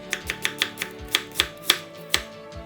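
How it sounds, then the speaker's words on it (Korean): A knife cuts half an onion into thick strips on a board, about a dozen crisp, sharp chops in a quick, slightly uneven rhythm, close and clear with no voices. "달큰한 양파 반개는 굵게 채 썰어 준비하고"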